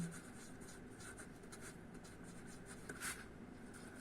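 Faint scratching and tapping of writing on a board during a math lecture, a soft continuous scrape with a few brighter strokes, quiet and close with no voice over it.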